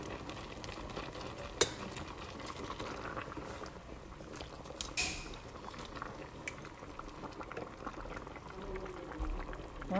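Chicken noodle soup simmers in a pot as the noodles cook, with steady bubbling, liquid sloshing and occasional clinks from stirring, close and moderately quiet with no talk.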